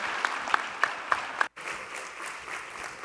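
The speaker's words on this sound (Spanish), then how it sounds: "Con nosotros el doctor Tuirán, para quien les pido un fuerte aplauso" Audience applause greets a speaker at a keynote lecture on the challenges of upper secondary education in Mexico: a few sharp, separate claps, a brief break, then steady, dense clapping from the hall.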